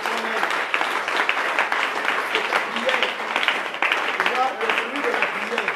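A church congregation applauding in praise during a service, dense sustained clapping from a crowd in a hall, loud and steady across several seconds with voices mixed in.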